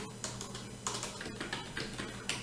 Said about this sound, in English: we will first type the text